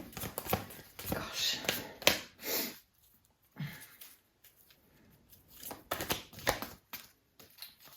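Large tarot cards riffle and slap in short, papery bursts, pausing briefly in the middle before the shuffling resumes, close by with some faint background noise.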